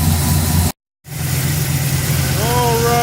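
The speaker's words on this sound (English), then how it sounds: "We got the quick fuel 780 CFM vacuum secondary on here, and it is idling much better." A V8 engine in a Volvo, fitted with a Quick Fuel 780 CFM vacuum-secondary carburetor, idles steadily and close by with a low, even rumble, broken by a brief dropout, and a faint whine appears near the end.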